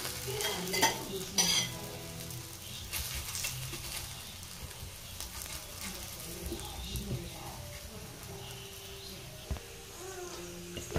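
Akki roti, a rice flatbread, sizzles in oil on a pan with a continuous crackling hiss, broken by a few louder scraping stirs near the start and faint background noise.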